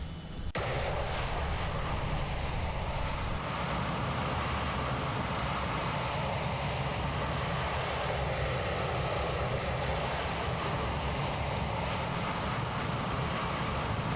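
A freeware jet in X-Plane 11 flight simulator roars with a constant, dense engine noise that holds steady and loud from start to finish with no talking.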